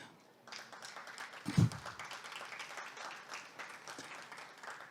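Applause from a conference session audience, a moderate, fairly distant patter of many hands that starts up, holds steady, with a brief bump of handling noise partway through.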